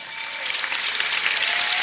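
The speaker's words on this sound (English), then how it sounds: "Let's have a loud applause for Martin Wenger." A loud, full burst of audience applause greets Martin Wenger as he is called on stage, with many hands clapping densely and steadily, building slightly.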